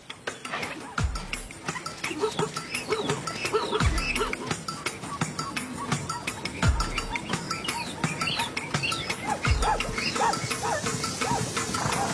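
A pack of wild African dogs on the savanna gives off scattered whimpers and yips against a busy outdoor background, with a few low, sweeping calls breaking through at intervals.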